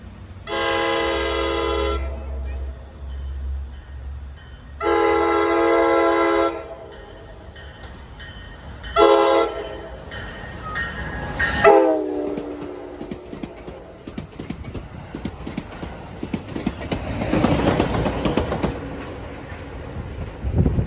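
An NJ Transit commuter train bound for Hoboken on the Main-Bergen-Port Jervis line sounds several long horn blasts in a crossing pattern, loud and near, then roars past with rumbling, clattering wheels that fade at the end.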